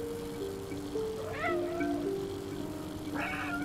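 Cat meowing in the video game Stray, two rising, drawn-out meows heard near and clear over a steady game music and ambient background.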